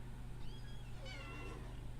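Video game cat giving a couple of faint meows, thin wavering calls buried in constant low droning background noise.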